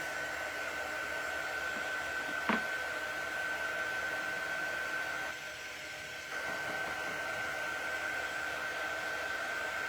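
A hair dryer runs steadily throughout, drying something close by. Its continuous whirring airflow briefly dips in level for about a second midway, then returns to full strength, with no talking.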